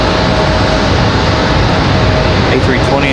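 JetBlue Airbus A320 airliner moving at Raleigh-Durham International airport, a continuous loud jet engine rumble and hiss, with a voice talking over it near the end.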